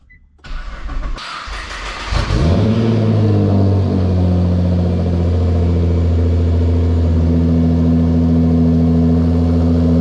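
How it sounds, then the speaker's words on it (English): A Nissan GT-R's twin-turbo V6 cranks and fires, surging loudly before settling into a steady, close idle with a deep, even drone; no voices are present. "Look at that, it started, and this twin turbo V6 really sounds amazing."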